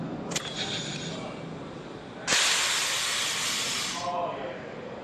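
Loud sharp hiss of compressed air venting from a spring-return pneumatic ball valve actuator, a brief burst followed by a sustained two-second blast that cuts off, with a faint voice and background noise around it.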